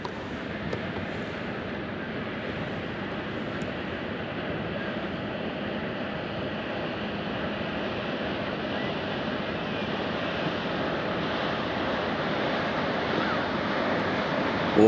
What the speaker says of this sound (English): Oh, listen to that water